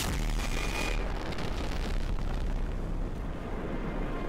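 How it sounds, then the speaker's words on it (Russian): A nuclear explosion in Battlefield Bad Company 2 roars as a loud, sustained, broadband rumble filling the whole stretch, with a brighter blast edge fading after the first second. "Вот и взрыв ядерный."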